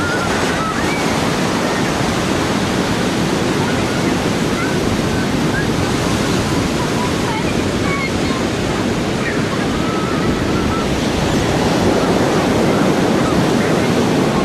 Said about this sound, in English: More waves crashing in.